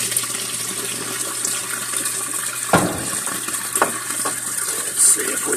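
Water rushes steadily into a Frigidaire Gallery washing machine drum as it fills, a continuous near hiss with a few soft clunks and splashes, and some faint talk in the background.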